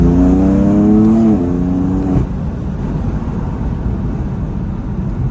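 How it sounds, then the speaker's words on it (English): A BMW M4 engine revs hard at night, its loud, close, harmonic growl sweeping and dropping before breaking into rougher exhaust noise and a steady driving roar. "I don't know how well you guys can hear the pops and the bangs and everything that's going on the outside."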